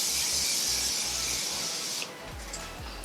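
Morphe makeup setting spray misted onto a face in a steady, close hiss for about two seconds, cutting off abruptly, followed by quiet room tone with faint soft handling sounds.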